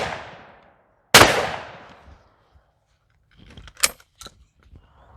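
A 28 gauge sporting shotgun fires one loud, sharp blast that rings off into a fading tail, followed by fainter clicks and clatter of handling the gun.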